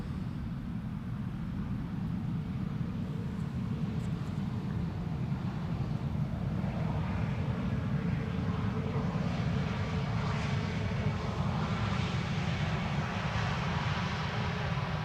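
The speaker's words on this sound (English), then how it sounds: "Transavia A321neo arriving from Tirana in Albania." A Transavia Airbus A321neo arriving from Tirana, Albania, lands at Schiphol Airport, its engines a steady, loud broadband roar that holds evenly throughout with no voices.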